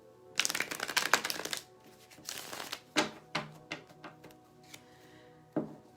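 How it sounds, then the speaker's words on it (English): A tarot deck from a Wonderland-themed set is shuffled by hand, with a long riffling burst, a shorter second pass, and then several separate taps and slaps of cards being squared and dealt, close and with no talk. "let me shuffle this Tarot of Wonderland"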